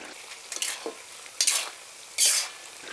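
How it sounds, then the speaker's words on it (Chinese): A spatula scrapes and stirs beef in a hot pan while it is stir-fried dry for soybean beef sauce, giving three or four brisk, close sizzling scrapes separated by short pauses. "把牛肉炒熟，水分炒干"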